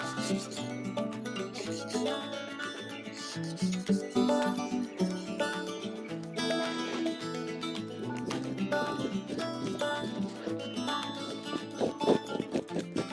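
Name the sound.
knife trimming fatty bits from a sheepskin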